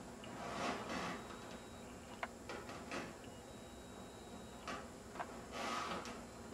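A kitchen drawer slides open and shut, giving several soft clunks and scrapes at close range over a quiet room, with no talking.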